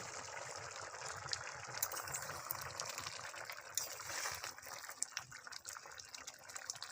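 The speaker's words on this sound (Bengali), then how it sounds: "পানি দিয়ে দেবো" Water pours steadily into a pan of fried prawns and potatoes, a soft, continuous rushing splash that runs quietly throughout.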